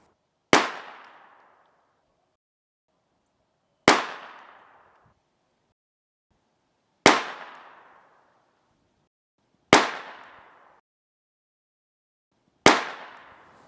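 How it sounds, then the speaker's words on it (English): Five sharp gunshots from a Ruger .22 pistol firing match-grade ammunition at a 25-yard range, evenly spaced about three seconds apart, each a loud crack with a short decaying tail and silence between. "So let's see what it does out of this Ruger at the same range, 25 yards."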